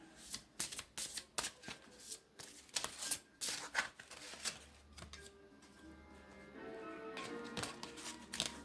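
Oracle cards being shuffled by hand, a run of quick papery riffles and flutters close up, with a softer, steadier patch of shuffling toward the end and no talking.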